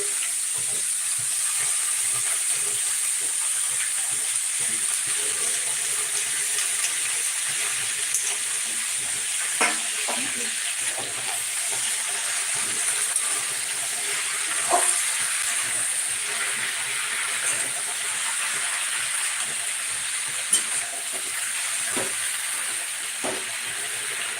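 Malabar spinach (pui shak) sizzles and fries in a pan with pumpkin and taro, a steady close hiss with occasional stirring scrapes and soft pops throughout.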